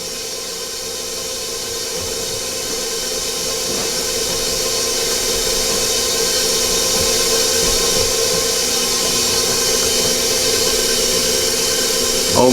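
An electric mixer beats carrot cake batter in a kitchen, a steady hissing whir that holds evenly and grows slightly louder over several seconds, with no talk.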